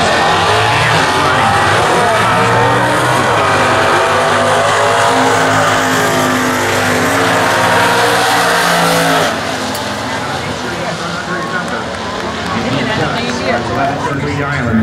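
Drag-race cars at the 60th US Nationals stock eliminations, a 2008 Mustang and a 1969 Camaro with a 396, roar loudly and steadily with strong engine harmonics that ease off partway through, while an announcer talks over them.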